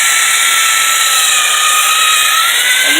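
A power drill runs continuously at a steady, moderate speed, a loud, even whine that barely changes pitch throughout.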